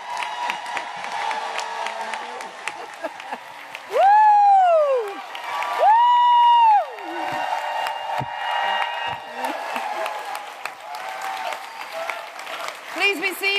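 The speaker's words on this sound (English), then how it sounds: "Another round of applause." Large crowd applauding and cheering for Attorney General Tish James at a Westchester event, a sustained wash of clapping with loud whoops and shouts rising above it, while a voice over the sound system talks through part of it.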